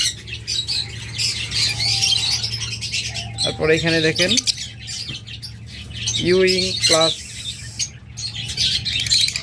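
Caged pet budgerigars chirp and squawk steadily in the background while someone talks over them in brief stretches.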